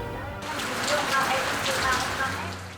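Rain falls in a steady, dense hiss that stays even throughout the few seconds, close and fairly loud.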